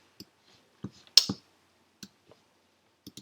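A computer mouse on a laptop setup gives a few sparse, sharp clicks, quiet and close, spread over a few seconds with silence between.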